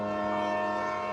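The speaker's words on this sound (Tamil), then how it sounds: "ஹே, அங்கப்பா ட்ரெயின் வந்துருச்சு போல." A train sounds a long, steady horn-like tone with layered harmonics, loud and alone for a brief moment, as it pulls in.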